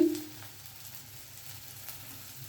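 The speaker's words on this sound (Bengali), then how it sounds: "এখন হলুদের গুঁড়ো দিয়ে দিচ্ছি" Turmeric powder going into a sizzling egg tarka, giving a faint, steady sizzle with light stirring ticks.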